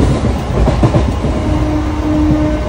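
Inside a moving passenger train at speed, a loud steady rumble with rhythmic wheel clatter on the rails and a faint sustained tonal whine, with no voices.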